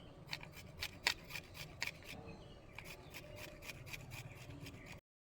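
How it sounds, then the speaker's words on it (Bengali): Ginger and garlic rubbed over a kitchen grater: a run of quick, close, rasping scrapes in a regular back-and-forth rhythm, a short pause midway, then more strokes, quiet and with no talking. "আদা আর রসুনটা একটু গ্রেটারে ঘষে নেব"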